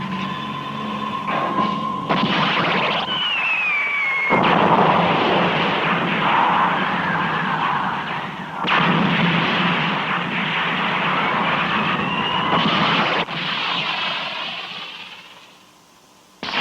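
Missiles launching and detonating in an animated 1970s space battle from Star Blazers, a dense, loud wash of rumbling blasts and whooshing streaks with rising tones, sustained across the clip with brief drops between volleys.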